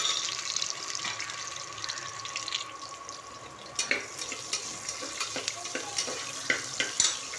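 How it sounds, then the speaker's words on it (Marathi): Spices tempering in hot oil for a matki (moth bean) curry, a soft continuous sizzle and crackle with scattered sharper pops, close but fairly quiet. "आता हे तेलामध्ये फोडणी द्यायची."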